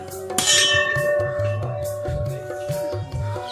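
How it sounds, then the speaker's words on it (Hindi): A metal temple bell at a cave temple in Rajasthan rings with a bright, lingering tone. Its resonance sustains under low rumbling and shuffling noise. "तो ये घंटी है"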